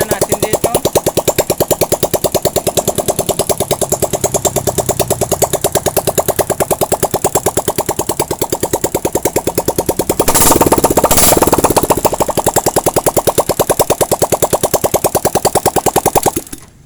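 A motorcycle engine runs unmuffled with a loud, rapid popping rattle, steady throughout, briefly revving harder partway through before cutting off at the end.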